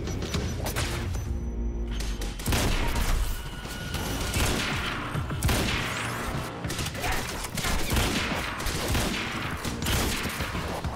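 Sustained heavy gunfire in the action game Quantum Break, dense overlapping bursts and impacts that continue almost without a break, loud and close, with a brief lull early on.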